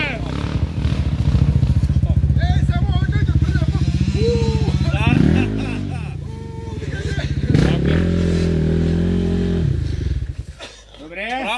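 A 2020 KTM EXC-F motorcycle revs loudly on a dirt track, its engine note rising and falling in close bursts, while people talk intermittently nearby.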